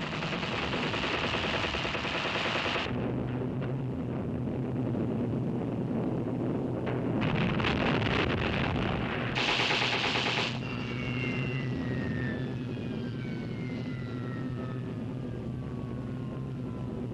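Lancaster bombers attack the German battleship Tirpitz in Tromsø Fjord, Norway, in 1944, with loud bursts of rapid gunfire and blasts over a droning aircraft engine rumble, followed by a falling whistle as the shooting stops.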